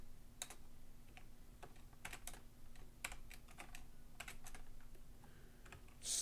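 Keystrokes on a computer keyboard entering CP/M code, in short irregular bursts of crisp clicks at close range, quiet and without speech.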